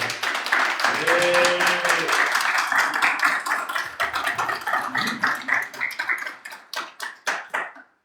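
Audience at a French political campaign rally applauds and cheers as a parliamentary candidate for the diaspora is called up, with dense sustained clapping and voices throughout, thinning into scattered claps before stopping.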